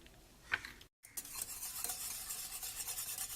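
Cocoa and cornflour paste being stirred into milk in a pan for a biscuit pudding, soft close scraping and swishing strokes with a brief clink near the start and a moment of silence, no talk.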